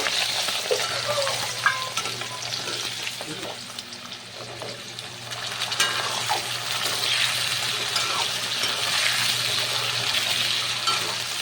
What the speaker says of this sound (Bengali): এখন আমি আলু ফুলকপি যেগুলো কেটে রেখেছিলাম সব কিছু আমি ফ্রাই করে নেব